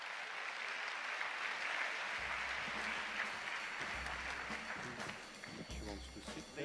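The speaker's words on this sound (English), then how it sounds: "Please, a warm applause for Dr. Wolfgang Streitenberger." Steady, faint applause from a conference audience at a European Commission launch event, many hands clapping together throughout, with low rumbling and a voice briefly heard in the hall.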